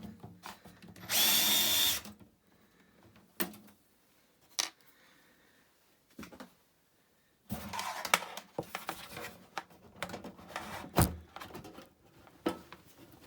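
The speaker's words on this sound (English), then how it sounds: "Using a power screwdriver" A power screwdriver whirs while removing screws from a Sony JE470 MiniDisc deck, one loud sustained burst of whine followed by scattered clicks, knocks and brief shorter whirs up close.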